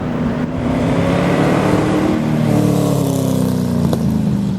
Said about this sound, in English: here you have a V8 engine, so the classic American engine, which makes a lot of noise and impresses yourself when you push down the pedal